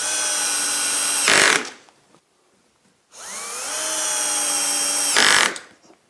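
A power drill drives 3.5 by 16 millimetre screws in a workshop in two long whirring bursts, each winding down with a short squeal, separated by a brief pause.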